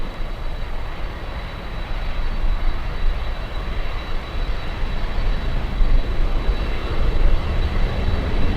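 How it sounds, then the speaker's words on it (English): A Boeing 777 landing on runway 12 at Miami International gives a loud, sustained engine roar with a steady whine, swelling slightly as it passes close by. "let's go for the big 777. It's landing on runway 12."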